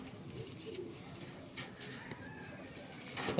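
Soft, low cooing from black-eyed Panjabi Malwai pigeons, faint and repeated in short murmurs over a quiet background.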